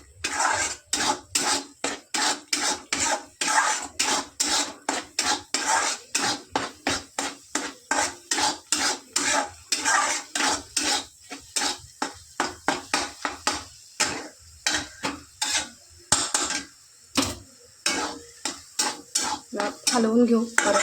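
Egg fried rice stirred and tossed in a pan on a hot gas flame, a fast, steady run of metallic scraping and clinking from a utensil against the pan, close and continuous for the whole stretch.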